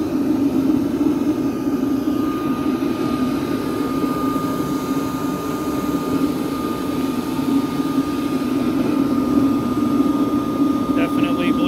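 A blue-flame waste oil burner fed by an air jet gives a steady, loud, close roar that holds even for the full length, with a faint tone running through it.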